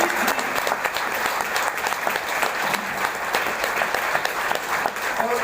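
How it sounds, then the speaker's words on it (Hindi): Loud, sustained applause from a crowded audience at an Indusviva motivational training session: continuous dense clapping that stays at a steady level from start to finish. "एक बार जोरदार ताली आपने दी।"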